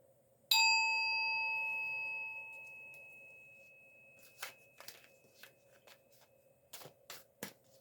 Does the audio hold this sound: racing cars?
no